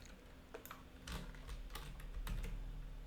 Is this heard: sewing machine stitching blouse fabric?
no